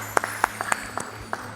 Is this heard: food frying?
no